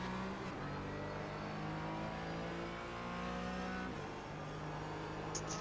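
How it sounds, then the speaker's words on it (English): GT4 race cars, including a BMW, accelerating hard at Silverstone, their engines rising in a loud, sustained, layered roar through the gears with no one talking. "Both cars sounding absolutely fantastic here."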